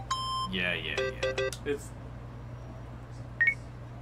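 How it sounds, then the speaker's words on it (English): A quirky electronic phone ringtone in the video game Yakuza: Like a Dragon plays as a burst of bright, stepped beeping tones, mixed with people talking, then fades to a faint background hum. "You have the worst ringtone I have ever heard."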